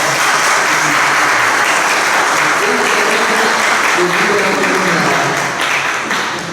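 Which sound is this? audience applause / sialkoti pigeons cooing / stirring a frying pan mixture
audience applause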